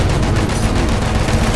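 Loud, dense gunfire from the Battlefield 1 video game during an Operations match on the Ballroom Blitz map, with overlapping rapid shots and volleys going on without a break.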